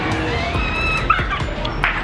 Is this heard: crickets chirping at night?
no